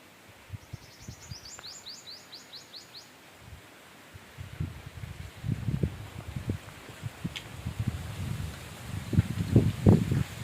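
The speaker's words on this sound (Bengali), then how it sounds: "প্রচণ্ড হাওয়া ওপরে।" Strong wind buffets the microphone on a hilltop, with low rumbling gusts that build and swell in bursts toward the end, while faint birdsong chirps early on.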